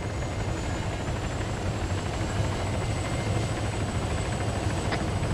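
A helicopter in the military video game Arma 3 makes a steady, loud rotor and engine drone that holds unbroken throughout, with no voices over it.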